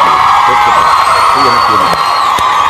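A concert crowd at a show cheers and whoops loudly and continuously, a dense wash of shouting and yelling voices with some applause mixed in.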